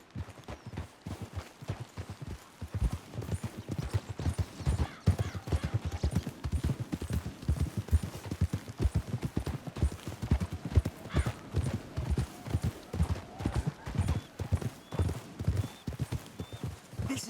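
Horse hooves in Red Dead Redemption 2, a steady rhythmic clip-clop of horses walking and trotting along, close and continuous, with a few faint whinnies and little else.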